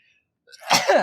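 A single sneeze bursts out loud and close after a brief near-silence, a sharp breathy snort with a voiced tail lasting about half a second.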